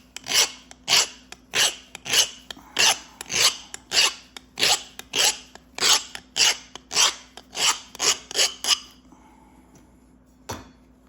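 Rhythmic rasping strokes of a stone abrading a flint edge to sharpen a knapping tool, about seventeen even, close scrapes in a steady beat, then a pause and one faint tap.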